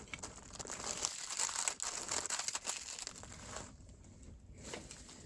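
A paper towel crinkled and folded while wrapping Christmas gifts, close rustling and crackling that comes in bursts and thins out toward the end.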